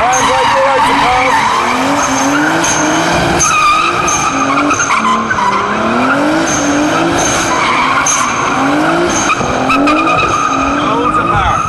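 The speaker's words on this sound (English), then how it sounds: "We're going to be burning some rubber, let's do it, all right. Fully sideways, put a handbrake" A car doing donuts with the handbrake, fully sideways, howls its revving engine while the tyres squeal and skid in long, wavering screeches, loud and close, with voices talking over the noise.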